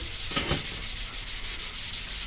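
Dry sandpaper rubbed across a skateboard deck in steady, even back-and-forth strokes, a close, continuous scratchy hiss with a regular rhythm and no voices.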